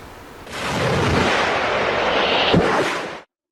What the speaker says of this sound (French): Encore une autre bombe larguée par les rebelles du M23 sur les maisons des populations